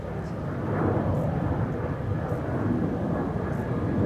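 A Transavia jet departs Amsterdam's Polderbaan runway 36L, its steady low engine rumble continuous and fairly distant at moderate loudness.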